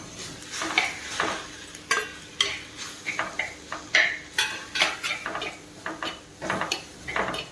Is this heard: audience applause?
no